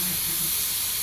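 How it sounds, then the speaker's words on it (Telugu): Plain toor dal with turmeric and salt bubbling in a pot, a steady dense hiss of steam and simmering liquid, loud and close, unbroken throughout. "ఇట్లా మరుగుతుంది."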